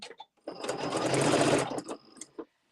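A sewing machine stitches a seam on a Luxe Cuddle fleece Fair Isle wrap, a steady close whirring run of about a second and a half with short starts and stops on either side.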